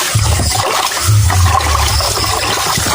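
Water is scooped and poured for bathing, giving steady close splashing and gushing pours over a low rumble that runs the whole time.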